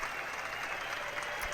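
A gala show audience claps in a brief, continuous burst, the dense patter of many hands heard at moderate distance and fairly quiet, with no voices standing out.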